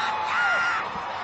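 A distant crowd roars and yells in a steady, broad wash of noise that swells slightly and then eases.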